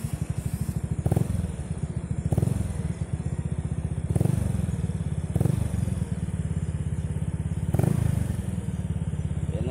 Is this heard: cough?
no